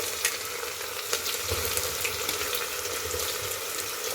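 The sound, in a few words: onions and green chili frying in oil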